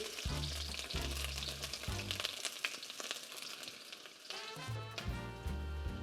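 Onion sizzles loudly as it hits hot oil for king prawn fried rice, with steady frying hiss and bursts of stirring scrapes, briefly dropping away mid-clip before the sizzle surges back.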